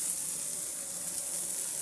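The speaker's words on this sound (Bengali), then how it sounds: "আমার চিংড়ি মাছ এবং করলা দুটোই সুন্দর ভাজা ভাজা হয়ে গিয়েছে" Prawns and bitter gourd frying together in a pan, a faint, steady hiss of oil with no talk, continuing evenly throughout.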